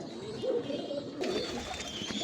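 Sialkoti pigeons cooing close by in soft, repeated throaty murmurs, with several birds overlapping and no talk.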